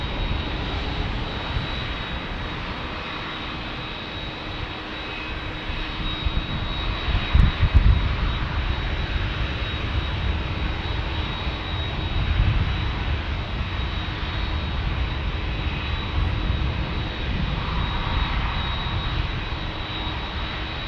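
A Hawaiian Airlines jet at San Diego airport rumbles loudly with a continuous engine roar that swells and holds throughout, heard outdoors with no talk.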